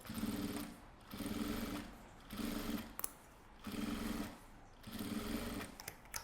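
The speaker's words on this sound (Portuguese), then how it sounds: "Entro aqui na máquina, passa a costura." Sewing machine stitching a seam on sublimated fabric for a large box-style zip cosmetic bag, running in five steady bursts with short pauses between, close and loud with no talk.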